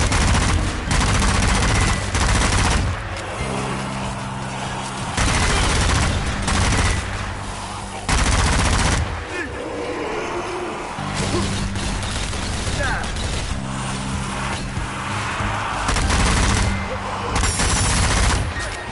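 Sustained gunfire in the zombie shooter Zombie Army 4: Dead War, loud bursts rolling almost continuously for the full stretch with brief dips, layered over game music and background effects.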